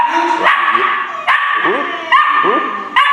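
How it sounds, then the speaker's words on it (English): A female puppy being trained to bark on command lets out short, high yips and barks in a quick series, close by, with a person's voice speaking between them. "we are teaching her to bark on command"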